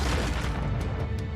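A heavy-duty grenade launcher round explodes in a sci-fi alien shooter, a dense, loud, rumbling blast filling the whole short stretch with no speech over it.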